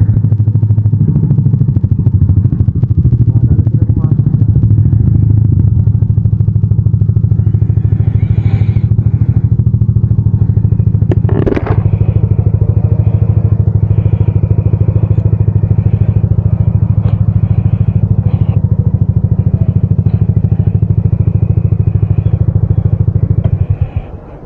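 A Yamaha Aerox V2 scooter engine with an aftermarket Redlak exhaust pipe idles loudly and steadily nearby with a deep, throaty rumble, a brief clatter partway through, before cutting off at the end.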